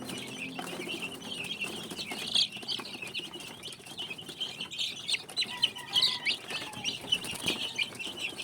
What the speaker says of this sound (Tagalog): Nakakatuwa nga itong mga sisiw namin dahil masisigla at makukulit na.